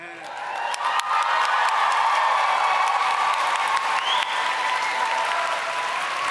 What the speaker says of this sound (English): in applauding the graduating class of 2024.